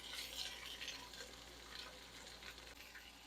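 Ground beef and diced onion fry in a tablespoon of olive oil, producing a faint, continuous crackling sizzle with light, scattered pops and no talking.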